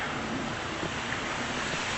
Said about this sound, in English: the creek itself just running fine, roaring along